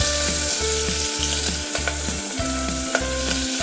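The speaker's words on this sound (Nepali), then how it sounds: "अब मैले प्याजलाई फ्राई गर्नको लागि कुकरमा राखिसकेको छु" Onions frying over a medium flame in a pressure cooker for chicken curry, a steady close sizzle under a loud repeating low mechanical drone with some scraping and clinks.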